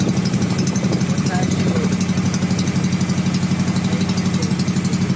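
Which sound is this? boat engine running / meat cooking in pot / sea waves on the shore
boat engine running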